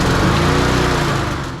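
A petrol lawn mower engine runs loud and close after starting, a dense steady buzzing drone that begins to ease off toward the end.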